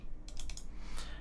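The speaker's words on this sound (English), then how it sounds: "just start typing, it's easier" Someone types on a computer keyboard, producing a short run of soft clicks, a few keystrokes close together and then one more, with no voices.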